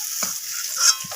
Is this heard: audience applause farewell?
no